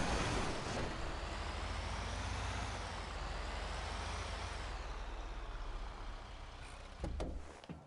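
A heavy vehicle engine in GTA V rumbles loudly and steadily, with a sharp air brake hiss bursting out near the end, all without speech.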